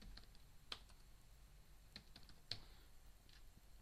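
Quiet, sparse computer keyboard typing: a handful of isolated key clicks spaced irregularly against a faint background hiss, close but soft.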